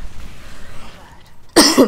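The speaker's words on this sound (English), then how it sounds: "Sorry, again, coughing" A single sharp cough bursts out near the end, close and loud, after a stretch of quiet background noise.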